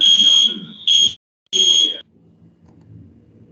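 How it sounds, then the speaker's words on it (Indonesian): A fire alarm at BAT Indonesia sounds in loud, shrill electronic tone bursts, a long blast, a short one, a gap and another long blast, followed by quiet low background hum. "tersebut adalah contoh dari bunyi alarm fire yang ada di BAT Indonesia"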